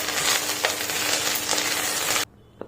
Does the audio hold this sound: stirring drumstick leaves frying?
yes